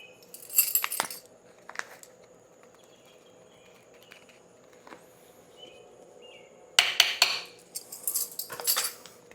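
A spoon clinks and scrapes against a vessel while stirring yeast nutrient into a coconut IPA brew, in two short bursts of metallic clatter separated by a quiet pause with faint background hiss.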